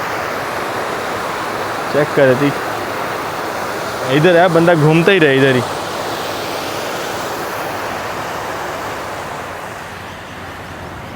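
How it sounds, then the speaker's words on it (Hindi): Fast water rushes steadily through a village canal in Pakistan at the point where it splits into two channels, a loud, constant roar that continues throughout while people talk briefly over it. "इतनी तेज़ी से पानी जा रहा है"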